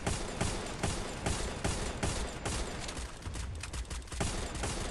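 Rapid bursts of sniper and other gunfire from a Free Fire mobile battle-royale match crack repeatedly through the whole stretch, loud and dense, with no talk over them.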